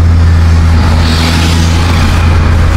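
A car fitted with a Greddy chambered muffler idles and revs with a loud, deep, steady exhaust drone heard up close.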